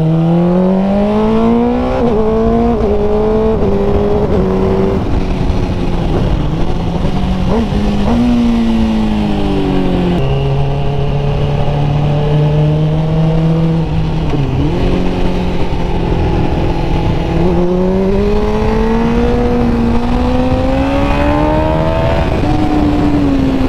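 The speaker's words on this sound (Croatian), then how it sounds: "držite pun gas i samo šibate mjenjač i to je jako uzbudljivo" A 2001 Suzuki GSX-R 600 K1 sport bike with a Healtech quick shifter screams at full throttle, its loud, close engine note climbing steadily and dropping abruptly at each rapid gear change without pause.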